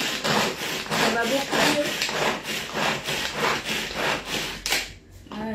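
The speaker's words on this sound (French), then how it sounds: "Moi, je l'aime bien hacher comme ça." Knife chopping courgette on a board for a surimi and courgette cake, a steady series of rhythmic rough cuts, close and moderately loud, with a voice speaking briefly over the chopping.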